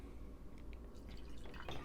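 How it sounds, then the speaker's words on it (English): Whiskey poured into a glass, heard as a soft, faint trickle with light dripping liquid over quiet room tone and no talking. "So let's go ahead and have a pour here."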